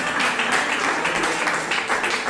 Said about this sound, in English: Well, I got seven hand claps on this side